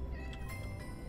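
A cat meows in the video game Minecraft, a short synthetic mew heard close and clear over steady background game ambience and music.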